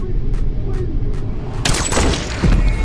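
Gunfire in a film scene where twins shoot a driver: a loud dense burst of shots erupts partway through and keeps rattling to the end over a rumbling background.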